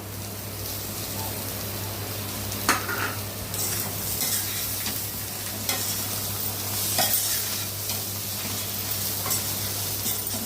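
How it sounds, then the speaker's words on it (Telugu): Stuffed eggplant curry is stirred gently in a pan, making a steady sizzle with soft scraping and occasional clinks of the spoon against the pan. A constant low hum from the stove or a fan sits underneath. "గుత్తి వంకాయ చెదరకుండా ఉండాలని కొద్దిగా నిదానంగా తిప్పుకోండి"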